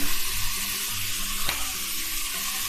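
Tomatoes sizzle loudly and steadily as they fry in a pan, with a single sharp spoon scrape partway through, close up and with no talking.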